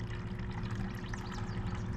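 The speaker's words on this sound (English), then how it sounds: "Turn this little valve here, your water is going to spill out." Water spills steadily from an opened check valve on an outdoor wood boiler, a continuous close pouring trickle that splashes without pause.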